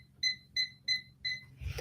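A kitchen timer beeps four times in an even, bright rhythm, close and fairly faint, then a soft rustle follows.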